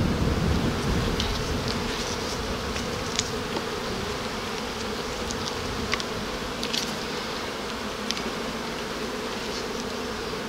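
Honey bees on a brood frame from a hive, a dense, steady buzzing swarm heard up close for the whole stretch, with faint clicks and bumps and no talk.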